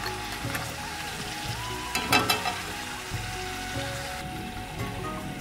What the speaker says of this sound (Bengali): এরকম করে লাল লাল করে খুব ভালো করে ভেজে নেব।